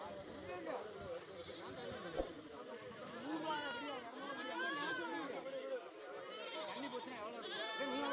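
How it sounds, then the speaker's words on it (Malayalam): Large male goats at a busy goat market in Kerala give repeated wavering bleats that overlap one another, mixed with constant crowd chatter and voices nearby. "വലിയ രണ്ട് മുത്തനാടുകളാണ്."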